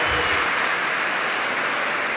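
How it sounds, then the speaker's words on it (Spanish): Audience applause for the speakers at a round-table conference held in the former National Congress, a dense, loud, steady wash of clapping that sustains evenly through the whole stretch. "démosle un fuerte aplauso a nuestros expositores que han estado de maravilla hoy día"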